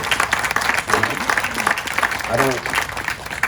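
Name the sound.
audience applause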